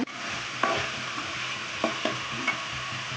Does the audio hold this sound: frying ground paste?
yes